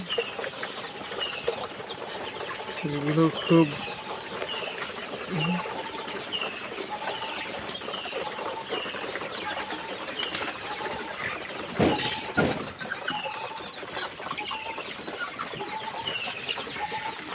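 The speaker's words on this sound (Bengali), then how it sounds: "এখানে সব দেখতে পাচ্ছেন পোলট্রি কক মুরগি খুব সুন্দর" Many birds chirp and cluck faintly across a large indoor flock of about 3,500 poultry chickens feeding on a farm, with a steady hum, a brief flutter and a sharp clatter partway through.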